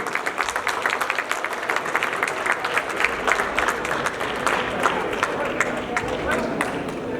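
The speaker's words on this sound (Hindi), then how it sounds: "जोरदार तालियां हो जाए एक बार तेज प्रकाश के लिए।" A hostel audience at a student show with standup comedy bursts into loud, sustained applause for a first-place performer, many hands clapping densely and continuously, with faint voices mixed in.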